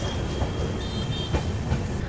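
The Lal Kuan Express rolls along the track, a steady rumble with rhythmic clickety-clack of wheels, heard from inside the coach at moderate level, with no talk.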